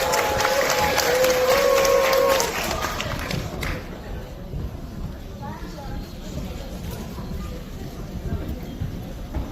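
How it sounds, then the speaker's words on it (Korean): Crowd applause and cheering at the opening of a Gwangju mayor's cup community sports competition, welcoming a gymnastics association vice president: a loud burst of clapping for about two seconds, then dropping to a murmuring crowd with scattered noise and talk. "힘찬 박수로 환영해 주시기 바랍니다."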